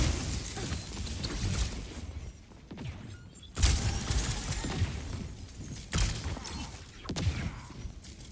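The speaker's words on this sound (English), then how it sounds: "Nice pulse bomb from Slake." Pulse bomb detonation in an Overwatch esports match, a sharp crash-like burst at mid-clip amid busy game effects, with further loud impacts and shattering hits following, loud in a dense, noisy mix.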